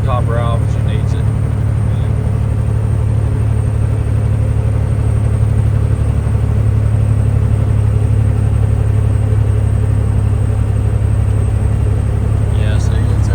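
A heavily loaded truck engine drones steadily up close with a deep rumbling hum that holds for the whole stretch, a faint squeak near the start and end, with no talk over it.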